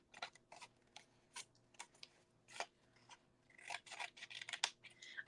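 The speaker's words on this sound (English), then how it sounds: "I'm going to do a miter cut there" Scissors snip through paper, making miter cuts at the corners of a handmade paper box, a series of short crisp close-up cuts in irregular rhythm.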